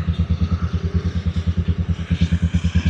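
A Keeway CR152 motorcycle engine idles while warming up, close and loud, with a steady rapid thumping pulse and a light mechanical clatter throughout.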